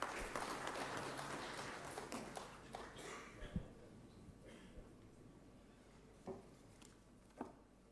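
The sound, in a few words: audience applause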